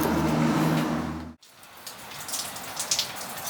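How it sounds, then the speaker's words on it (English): Rain falling outside, first under a low engine-like hum that cuts off abruptly, then alone as a soft, steady patter with scattered heavier drops and drips. "It's a nice rainy day."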